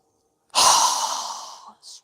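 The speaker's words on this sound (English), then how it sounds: "So go ahead and inhale." A single deep breath drawn in during a yoga session, a close, airy breathy rush starting abruptly, swelling then tapering off over about a second, followed by a brief softer breath.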